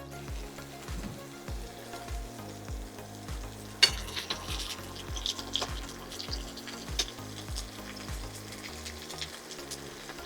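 Chicken breasts fry in a pan with a steady sizzle, while frequent utensil scrapes and taps recur throughout.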